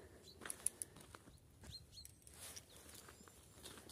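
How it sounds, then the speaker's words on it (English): Quiet misty morning outdoor scene with scattered bird chirps and high tweets, distant and intermittent over soft background patter. "And the birds are singing so clearly this morning."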